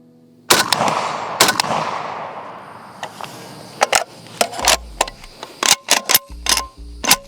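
An AK rifle fires, loud close cracks: a few spaced shots, then a faster string of sharp reports with echoing decay between them.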